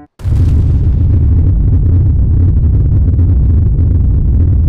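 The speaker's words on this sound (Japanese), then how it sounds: "それではいざ、爆破。" A nuclear bomb detonates in the mining game Hydroneer, a sudden loud blast that swells into a long, heavy rumbling roar sustained without letup, with no voices.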